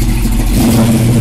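A 1970 Chevelle 396 SS with a four-speed gives a short, loud rev blip, its deep engine note rising and swelling close by with no voices over it.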